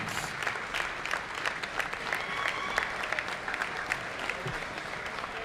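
Crowd applause in a school gym for a high school boys' basketball team and coaches, dense steady clapping throughout, moderately distant, with a few voices under it.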